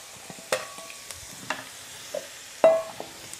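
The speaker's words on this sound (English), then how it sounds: "Now we're going to add the celery." Chopped celery going into a pan of softening onions for a tomato meat sauce: a soft sizzle under scattered spoon clinks and scrapes from stirring, fairly quiet and close, with no talking.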